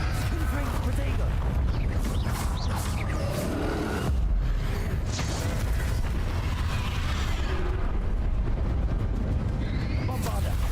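Confringo blasting-spell explosions in the Hogwarts Legacy video game, with several heavy booms and bursts over a dense rumbling battle roar, mixed with spoken voices and swishing spell effects.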